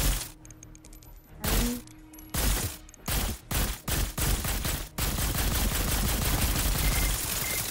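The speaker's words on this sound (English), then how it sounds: "can you stop shooting me?" Video game gunfire rattles in sharp separate bursts at first, then becomes a dense, continuous stream of rapid shots that runs to the end.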